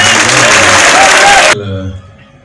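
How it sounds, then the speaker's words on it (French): Applause from an audience during an official visit to a prison in Moungo, a loud wash of clapping mixed with voices that cuts off abruptly, leaving quieter talk behind. "mérite des félicitations et avec des applaudissements"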